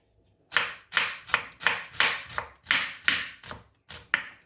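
Knife chops onions finely on a board for a chickpea salad, about ten crisp, evenly spaced strikes close by, each a sharp tap with a brief rasp, with no voices.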